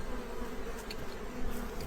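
A dense, steady hum of many honeybees buzzing around an open beehive during a hive inspection, a continuous drone close by with no talking.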